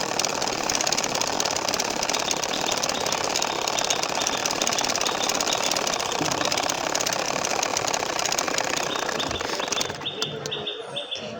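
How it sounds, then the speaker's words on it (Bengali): A sewing machine stitches a baby nakshi kantha quilt with a fast, continuous mechanical rattle that runs steadily and loudly, then stops near the end. "এখন আবারও সেই হাফ ইঞ্চি পরিমাণ রেখে সেলাই করে নিব"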